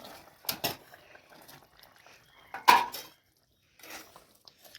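Metal cookware clanks and scrapes in a few sharp, close knocks as a pot of fish curry is lifted off the stove in a village kitchen, with quiet gaps between the clatters.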